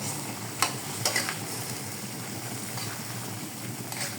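Fried fish is stirred in a sizzling pan, a soft continuous frying hiss broken by a few light scraping clicks of the utensil, fairly quiet and close, with no talking.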